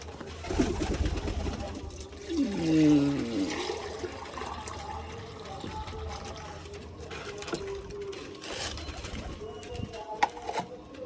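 Pigeons coo softly at close range while drinking from freshly filled water, with scattered splashing, fluttering and someone talking quietly at times.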